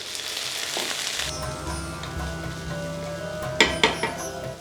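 Chopped ginger and garlic with a little water sautéing in a pan for a fish molee make a steady close sizzle that changes tone partway through. A few sharp metallic clinks of a spoon against the pan follow near the end.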